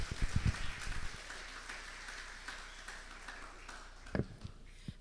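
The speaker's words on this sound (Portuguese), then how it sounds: "Vamos aplaudir ao Senhor mais uma vez pela vida delas?" A church congregation applauds during a Mother's Day service, producing faint, distant, steady clapping with a few louder thumps near the start and end.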